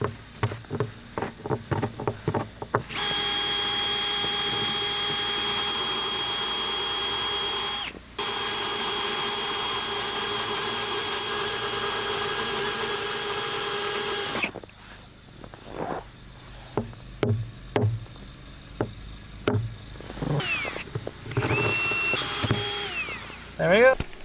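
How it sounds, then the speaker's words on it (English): A power drill bores a hole in the bottom of a blue truck's fuel tank, a loud, steady motor whine running for about ten seconds with a brief dip, framed by clanks, handling noises and nearby talk. "drilling a hole in the bottom of my fuel tank on the blue truck"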